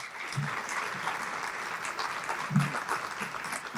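Steady applause from an audience at a high school military recognition ceremony honoring Army National Guard enlistees, moderate and continuous across the clip with a few louder claps standing out.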